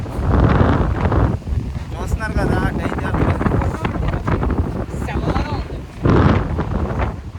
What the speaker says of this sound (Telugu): గాలి అయితే భయంకరంగా వేస్తుంది ఫుల్గా